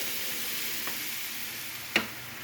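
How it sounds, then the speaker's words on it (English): Food frying in a pan until tender, a soft steady sizzle and hiss heard close up, with a light clink partway through and a sharper tap near the end. "I'm just going to cook these until they're tender."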